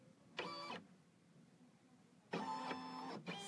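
Baby Lock Destiny 2 embroidery machine's built-in camera scans a drawn line image, giving two short whirring mechanical passes, the second longer and followed by a brief third burst, quiet and close with no talk.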